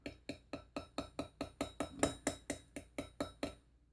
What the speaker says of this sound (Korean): 망치는 항상 같은 위치를 쳐주고 이 날을 좌우로 움직여가면서 이렇게 쳐주는 겁니다